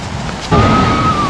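Strong ocean waves surge at Baishawan Beach in Kenting, Taiwan, a loud close rush of surf that swells sharply midway, mixed with wind buffeting the microphone.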